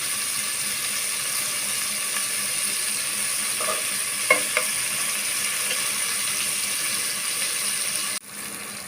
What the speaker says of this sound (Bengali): দেখুন বন্ধুরা আমি করলাগুলো লাল লাল করে ভেজে নিয়েছি